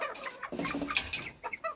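A rooster and hen cluck in a farmyard flock, a quick run of short, close, fairly loud clucks and squawks over under two seconds, with no speech.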